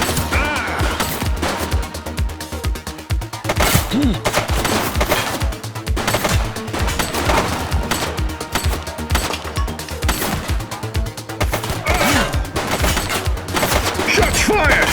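In the video game The Precinct, rapid gunfire crackles in dense, continuous bursts of sharp shots, loud and close, with occasional shouted voices.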